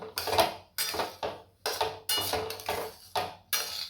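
Semolina roasting in ghee in a pan is stirred in slow strokes, each pass making a scraping clatter of spoon against metal, about seven distinct sweeps separated by brief pauses.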